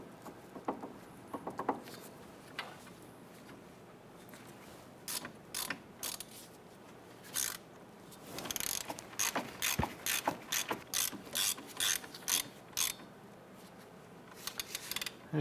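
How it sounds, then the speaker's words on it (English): Ratchet snugging down bolts on the CV axle assembly of a 1999–2004 Jeep Grand Cherokee, bursts of rapid clicking that start sparse and then come in quick repeated runs, close and fairly quiet. "we're going to come back with our ratchet and we're going to go ahead and snug those down"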